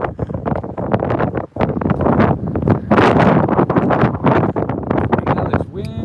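Strong gusts buffet the microphone during an outdoor dog walk, a loud continuous roaring rumble with people talking over it throughout.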